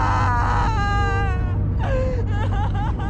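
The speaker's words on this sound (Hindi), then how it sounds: "ये तो किसी औरत के रोने की आवाज है यार" A woman's eerie, wailing cry rises and falls in long drawn-out moans with sobbing breaks over a low rumbling drone, close and loud, setting a frightening horror-story mood.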